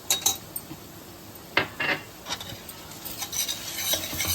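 Ginger garlic paste is stirred in a frying pan with a utensil, giving a few sharp metallic scrapes and clinks over a soft steady sizzle, close and fairly quiet, with no talk.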